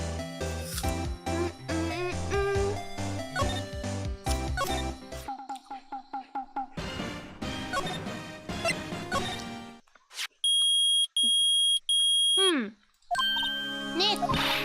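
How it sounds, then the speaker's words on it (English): A metal detector in the Phoenix Wright: Ace Attorney video game gives repeated bright electronic beeps near the end, following stretches of game music and chiming blips. "It's beeping! The metal detector's found something!"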